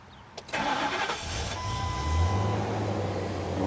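A V10 tow truck with about 280,000 miles cranks over briefly and catches, then settles into a steady, loud low idle rumble close by.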